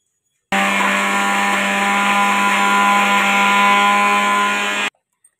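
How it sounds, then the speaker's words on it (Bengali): A mixer grinder whirs steadily as it blends taro root with prawn heads into a paste, a loud, continuous motor drone that starts abruptly, holds for about four seconds and cuts off, with no talking. "এই মানকচুর মধ্যে চিংড়ি মাছের মাথাগুলো আমি দিয়ে দিচ্ছি। একসাথে আমি মিক্সিং জারে বেটে নেব।"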